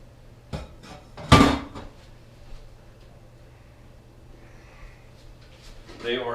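A metal lid clanks sharply once as it is lifted off a pot of steamed oysters, followed by a soft hiss of steam and quiet kitchen movement.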